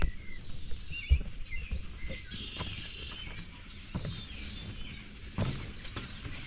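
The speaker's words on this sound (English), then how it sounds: "so you can hear the birds" Birds sing and chirp in bursts at Magee Marsh, fairly faint and distant over an outdoor background, with a few soft thumps and rustles nearby.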